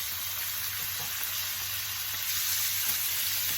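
Onions sizzle in a hot pan alongside pork while cooking pancit canton, a steady close frying hiss throughout with no one speaking.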